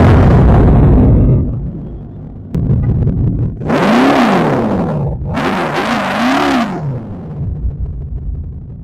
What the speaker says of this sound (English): let's start this car up and let's hear it